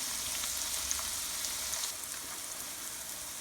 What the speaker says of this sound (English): our veggies are getting very nicely sauteed